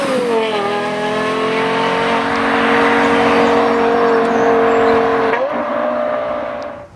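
A Lexus LFA supercar's exhaust howls loud and close under hard acceleration, a high rising wail that holds steady before a quick shift and a brief lift at the end, with no talking.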